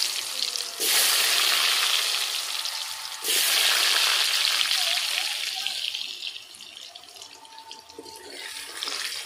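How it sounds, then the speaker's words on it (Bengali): Salted potato pieces fry in oil in a pan, giving a loud, dense hissing sizzle that surges twice near the start and then settles into a softer steady crackle, with no one talking. "ওই তেলের মধ্যে আলুগুলো ভেজে নেব।"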